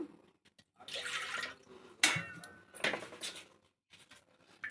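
Dal cooking water is poured into a tamarind leaf dal rasam, coming as a few close, splashy bursts of liquid separated by short quiet gaps.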